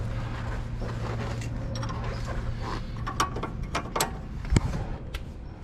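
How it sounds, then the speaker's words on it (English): A wrench tightens the strut nut on an Infiniti G35 coilover, producing a few faint metallic clicks and ratcheting ticks over a low, steady background hum. "Put the wrench on there. Tighten it up."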